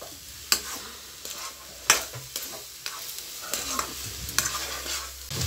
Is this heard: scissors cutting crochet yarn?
no